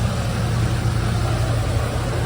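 A 2020 Freightliner MT45 step-van with a 6.0 liter GM Vortec V8 gasoline engine runs at a steady idle, loud and close, with a constant low rumble.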